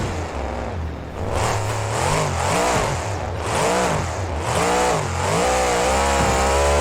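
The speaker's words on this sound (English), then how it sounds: "A lot of power in that 540 cubic inch engine as Gravedigger soars over the blue tabletop." Simulated Gravedigger monster truck with a 540 cubic inch engine in BeamNG, revving loudly and continuously with rising and falling pitch sweeps as it flies over tabletop jumps at a fairgrounds freestyle course.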